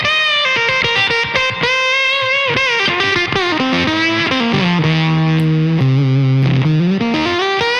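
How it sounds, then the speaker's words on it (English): Electric guitar through a Coriolis Effects Face Deluxe fuzz pedal set to an original Fuzz Face tone with rolled-off highs, playing a dense, saturated run of chords and sustained notes, loud and continuous with no talking. "all the way down we're going to have the original fuzz face kind of sound, which is going to roll off more of your high end."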